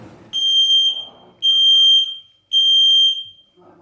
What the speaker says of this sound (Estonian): Kas see oli suitsuandur?